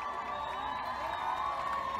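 Distant crowd cheering and applauding for a long line of Boise High School students marching to the state capitol during a national school walkout, a steady, faint wash of voices and whoops.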